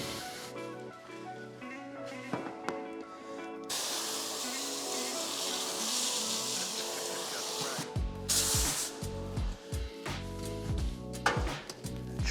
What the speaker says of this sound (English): Now I'm gonna have to respray that with slip solution